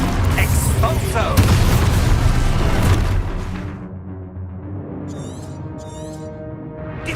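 Spell explosions cast in the Hogwarts Legacy video game, loud booming blasts and bursts that dominate the first three seconds, then fade into a quieter rumbling bed with a few crackling magical flourishes.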